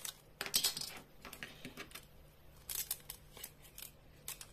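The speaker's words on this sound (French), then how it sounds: "Alors, je vais le couper ici." Vintage material is cut with scissors: a few quiet, sharp snips and light rustling, close by, with short pauses between the cuts.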